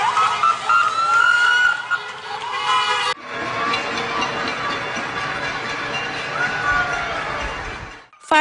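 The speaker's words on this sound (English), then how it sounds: "Firefighters, RCMP, and police are also joining the crowd by doing a parade and siren salutes around local hospitals" Police and fire vehicle sirens blare together in a siren salute parade past local hospitals, a dense, sustained wail filling the scene with a brief drop midway and crowd noise mixed underneath.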